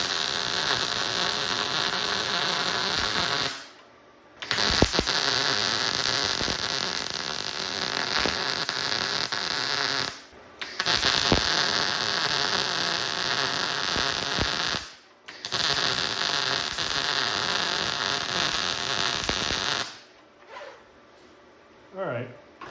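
Steady electric crackling buzz of a welder laying beads on a car body panel during automotive restoration, running in long continuous stretches broken by short pauses between passes.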